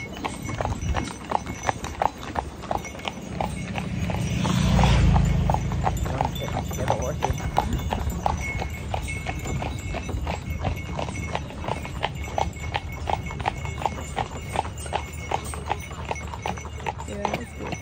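Horse hooves clip-clop in a steady, close rhythm while pulling a carriage on the way to a farm dinner in Romania, with people talking over the hoofbeats.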